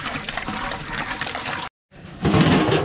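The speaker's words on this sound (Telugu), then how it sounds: "దీంతో 120 లీటర్స్ వాటర్ అయితే వేసాం దీనిలో." Water pours from a can into a large cooking pot, part of filling it to about 120 litres; a steady, close splashing gush fills the stretch, breaks off briefly, then resumes louder and fuller as more is tipped in.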